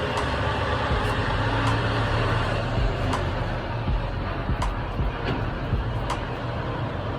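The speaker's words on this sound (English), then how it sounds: "I'm gonna give this truck a second." A truck passing outside: a broad, steady low rumble that holds for several seconds with faint clicks and knocks scattered over it, heard at a distance.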